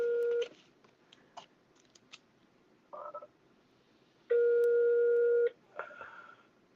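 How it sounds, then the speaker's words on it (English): An outgoing telephone call rings while waiting for pickup, with steady electronic ring tones, short beeps and gaps between them, close and clear. "Maybe customer will pick up the phone."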